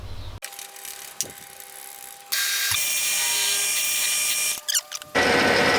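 A drill boring metal in a lathe, running a bit fast: a close, loud mechanical drilling sound with a ratcheting, grinding texture that starts and stops in bursts, ending in a steady high-pitched whine.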